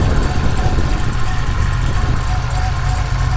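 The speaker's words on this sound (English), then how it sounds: "It does have a very, very smooth idle." A 2013 Cadillac CTS-V idles smoothly with its hood open, a steady close engine hum holding even throughout without any talk over it.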